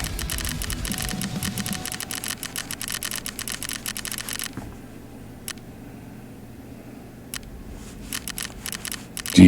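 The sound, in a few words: computer keyboard and mouse clicking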